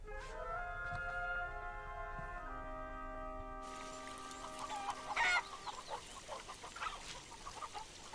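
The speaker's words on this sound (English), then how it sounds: "This is the mother hen, and this is the baby." A mother hen and her chick cluck in an animated scene, clucks and chirps rising after a sustained musical tone fades, with no talk over them.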